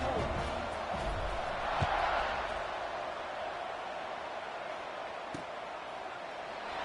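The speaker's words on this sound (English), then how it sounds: "this crowd is buzzing after that last score" Steady football stadium crowd murmur after a score in a Penn State college game, a broad continuous buzz at even loudness with a couple of brief thuds and no clear cheering peaks.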